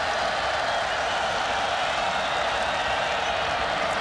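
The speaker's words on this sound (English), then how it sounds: "Crowd getting into it a little bit here at the Big House." A large stadium crowd at Michigan Stadium roars in a steady, dense wash during a college football game against Akron, broad and sustained without breaks, with no voices standing out.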